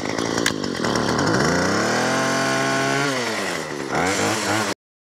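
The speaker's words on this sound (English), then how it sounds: "I'm going to angle my pruning shears just a little bit, maybe 20 degrees or so. And we're going to crank up and we're going to make some cuts." A powered pruning shear, sounding like a small chainsaw-type engine, revs and cuts through ornamental grass, loud and close, with pitch sweeping up and down under load before cutting off abruptly.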